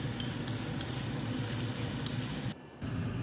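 Ground spices such as chilli, coriander and cumin sizzle steadily in hot oil while being stirred for a vegetarian jackfruit curry, a close, even frying hiss with faint scraping that cuts out briefly near the end.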